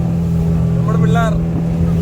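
A speedboat engine drones loudly and steadily on the water throughout, with a person's voice briefly heard over the motor.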